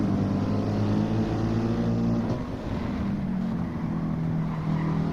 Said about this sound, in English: Now we have Tony closing up in the Lamborghini